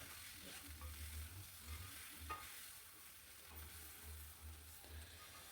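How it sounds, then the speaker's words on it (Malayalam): Beef frying with onion and black pepper in a hot pan, a steady close sizzle with occasional stirring scrapes and clinks over a low burner hum. "സവോളയും കുരുമുളകും ചേർത്ത് ഫ്രൈ ആക്കി എടുക്കുക."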